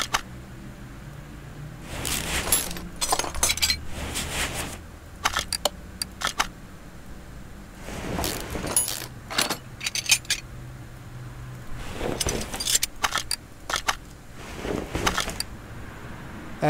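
Brake parts coming off a car with a broken, damaged rear axle in a car mechanic simulator game, heard as repeated bursts of metallic clicks, clanks and ratcheting tool sounds separated by brief quiet gaps, close and fairly loud.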